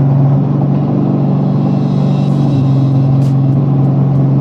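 A Turbo Dodge SRT8 Challenger's engine roars loud and close with a deep, steady rumble, holding revs throughout with a slight swell near the middle; no voices.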